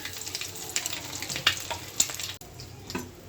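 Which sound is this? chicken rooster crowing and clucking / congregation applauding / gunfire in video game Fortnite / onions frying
onions frying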